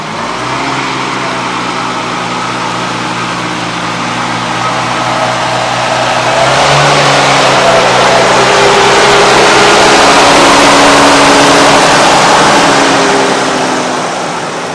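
An Oliver 88 vintage tractor engine, cold-started after years unused, idles with a rough, close rumble, then revs up louder halfway through and holds the higher, steady roar.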